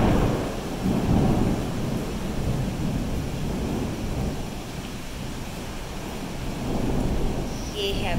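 Heavy rain roars steadily close by in a rural Indian village, with deep rumbling swells underneath, like thunder or gusting wind, and no clear talking.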